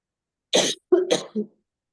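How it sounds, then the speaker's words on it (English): A few quick coughs close to the microphone, a sharp burst then two shorter throaty coughs, with silence around them. "I don't know where that cough came from"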